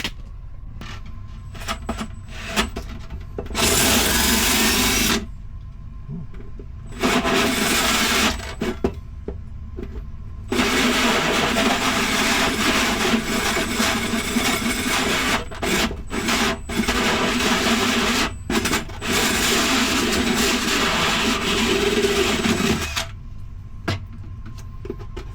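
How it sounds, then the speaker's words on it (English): A hole saw cuts a hole in a wall where a shelf was removed, its loud grinding, rasping bursts running in several long stretches separated by brief pauses. "I went in and grabbed the proper hole saw"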